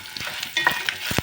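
Dried red chillies drop into a hot pan with fenugreek and garlic, giving a few short crackles and sharp sizzling pops with light scraping of stirring, close and brief.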